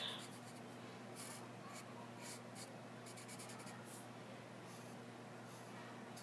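A pencil scratches across paper in quick, separate strokes and bursts, close and fairly quiet against a faint background hum.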